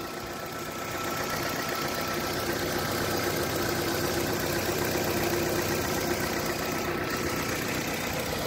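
A Toyota Carina TI sedan engine idles steadily at about 900 rpm, a continuous close rumble with a faint rhythmic knock, no voices.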